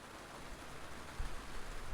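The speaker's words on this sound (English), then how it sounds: "How long is it supposed to rain for?" Rain falling outside during an indoor recording, a steady, soft, broadband hiss that stays low and even throughout, with one brief dull bump partway through.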